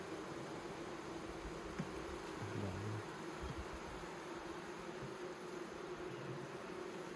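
Honeybees during the first inspection of a newly hived swarm: a steady, soft, dense buzzing hum continues throughout, with faint handling knocks and no voices.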